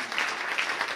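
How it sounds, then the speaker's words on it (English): Applause from the congregation at a church youth Sunday worship service, a brief burst of steady, moderately loud clapping from many hands with no talking. "And a big clap to Jesus Christ for the great thing he has done"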